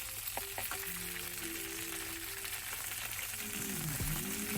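Eggplant frying in hot oil in a pan for a curry, a quiet, steady sizzle with faint stirring sounds throughout.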